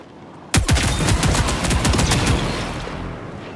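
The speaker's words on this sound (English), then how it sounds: "Shooting a Volt weapon feels great." Volt weapon fire in the video game Marathon: a sudden loud opening blast followed by a rapid burst of gunshots, then a ringing decay, with no speech.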